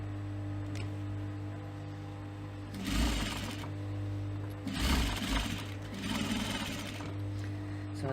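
A sewing machine stitches along the bottom edge of a cosmetic pouch in three steady bursts of whirring needle runs, with a constant background hum between them.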